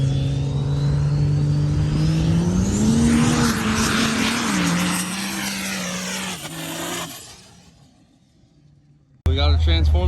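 A Cummins diesel truck at a sled pulling and dyno competition revs hard and climbs in pitch, its loud engine roar holding for several seconds before dropping away to a quieter rumble, then a sudden burst of louder noise at the end.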